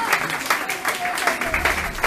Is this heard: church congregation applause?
yes